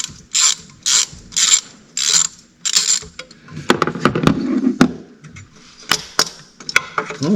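A ratchet wrench loosens the grid heater bolt on a RAM 6.7 Cummins engine. About six quick clicking bursts come in a steady rhythm, followed by clanks and knocks of metal, all loud and close.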